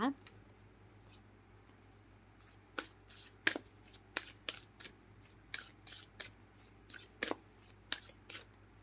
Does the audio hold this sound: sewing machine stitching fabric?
no